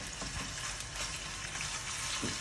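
Chicken meat sizzling and crackling in hot oil in a wok for Thai pad kra pao, a steady dense frying hiss running throughout with a few louder spatters, close and fairly loud, no voices.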